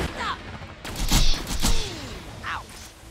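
Gunfire from the Shock Pimpernel in a looter-shooter video game, a few sharp bursts around mid-clip with ricochet-like whines and scattered effects, fairly loud against a busy backdrop.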